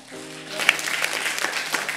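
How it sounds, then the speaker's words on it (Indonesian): A congregation at a Sunday church service breaks into applause, clapping building quickly from a faint start into a dense, steady burst over the low hum of the hall's sound system. "Tepuk tangan."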